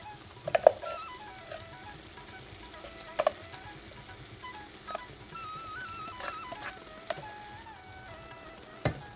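Ground paste frying with cluster beans in a pan, a quiet sizzle broken by occasional sharp clicks and scrapes as the mixture is stirred.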